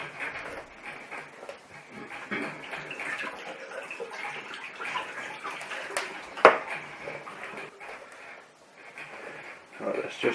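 An espresso machine's brass group head plate is scrubbed with a group head cleaning brush under running sink water, giving a steady splashing wash with a sharp knock midway while someone talks over it.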